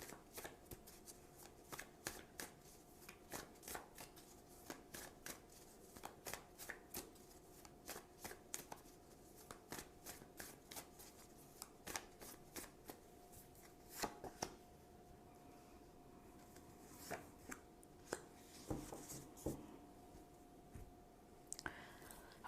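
Tarot cards are shuffled and handled close to the microphone, giving a long series of quiet, crisp riffling slaps and flicks in irregular rhythm, with no talking.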